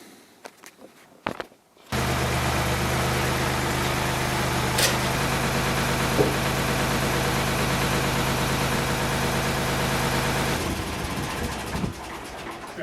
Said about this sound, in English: Hey, tractor.